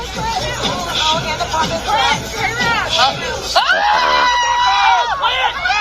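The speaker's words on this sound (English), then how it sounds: "Everybody else is screaming." Wedding guests scream in alarm at a fire, a dense chorus of high, overlapping shrieks and yells mixed with crowd babble that carries on loud and continuous throughout.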